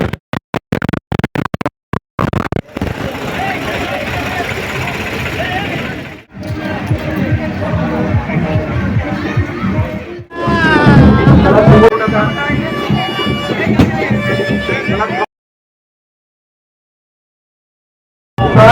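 A large, dense crowd fills a Kolhapur Ganesh immersion procession with busy babble and shuffling, and the noise grows louder and more chaotic midway. A voice talks over the din, and the sound cuts out in places before a long silence near the end.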